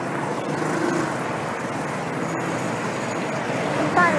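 Dense street traffic in the Philippines, with jeepneys and other vehicles, makes a steady, loud roar of engines and road noise that barely changes.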